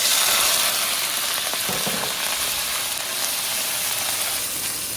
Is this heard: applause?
no